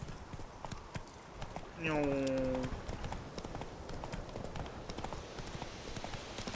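Roach the horse's hooves clip-clopping in The Witcher 3, quick rhythmic hoofbeats throughout, joined briefly by a loud whinny-like cry, with a short spoken word over the top.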